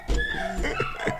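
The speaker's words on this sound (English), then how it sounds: "I got off track because the dogs were barking." Dogs bark and yip close by, several short overlapping calls in quick succession, loud and alone with no voices over them.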